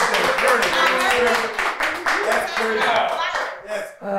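Several people clap in a morning radio studio, a brisk, loud burst of handclaps mixed with talking voices that tapers off near the end.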